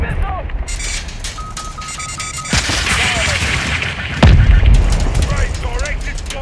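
Heavy blasts boom through a Call of Duty: Modern Warfare II Hardpoint firefight, with one deep explosion landing mid-clip amid rolling gunfire, radio chatter and voices talking over the battle.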